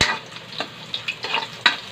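Ginger sizzles in hot oil in a pan while it is stirred for chicken tinola. Short scrapes and clicks of the utensil come in an uneven rhythm over a soft, steady frying hiss, close by and with no talk.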